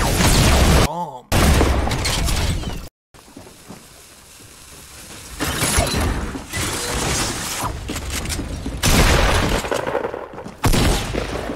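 Turrets firing in the video game Fortnite, loud bursts of rapid gunfire and booming impacts in several waves, with brief gaps and a voice talking over parts of it.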